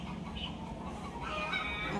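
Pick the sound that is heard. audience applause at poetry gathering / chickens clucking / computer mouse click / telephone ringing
chickens clucking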